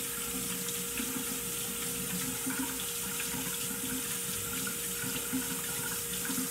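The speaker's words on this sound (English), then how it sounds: "I'll just wash off my hands because butter's gross." Steady running tap water splashing into a kitchen sink as hands are rinsed clean of butter, a continuous close hiss without any talking.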